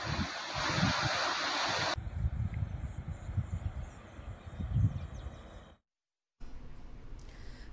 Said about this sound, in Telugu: ప్రాణహిత గోదావరి నదులు ఉధృతంగా ప్రవహిస్తున్నాయి